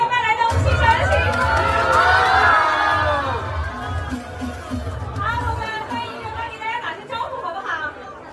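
A large crowd at a brand launch event cheers and shouts excitedly, loud chatter and whoops swelling then easing slightly, a dense roar of many voices filling the space.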